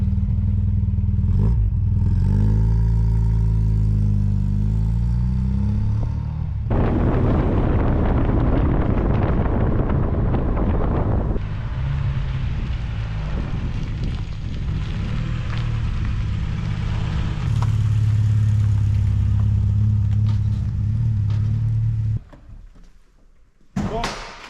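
A VW Golf 2 GTI 16S engine revs and pulls away, a loud close droning note rising and shifting through gears with clatter and wind buffeting, ending in a sudden drop and a few knocks.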